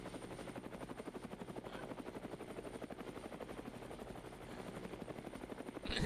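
Helicopter in a video game, a steady rapid rotor chop thudding evenly throughout at moderate level, swelling slightly louder at the very end.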